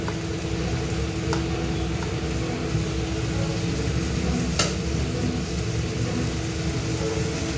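Cauliflower and potato curry is stirred in a hot pan, producing a dense, continuous loud frying hiss with a couple of brief scraping ticks from the spoon.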